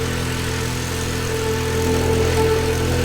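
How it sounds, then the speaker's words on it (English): Steady engine drone of a tuk tuk touring city streets in Madeira, a constant mid-pitched idle-like hum with vibration and traffic noise, loud and continuous with no talking. "The engine can be a bit noisy, especially when climbing steep hills or driving through traffic."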